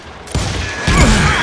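Gunfire crackling in a street shootout in Call of Juarez: Gunslinger, a Western shooter game; a loud burst begins suddenly and keeps rumbling with a second heavier surge, with no talking.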